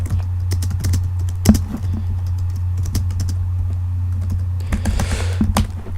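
Keys clatter on the keyboard of a 15-inch PowerBook G4 laptop, close and loud, in irregular bursts with a sharp thump partway through and a low steady hum underneath, with no one talking.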